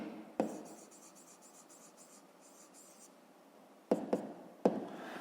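A pen scratches out a short maths answer on paper in a quick run of faint strokes, with a few sharper taps of the pen against the page. No one speaks.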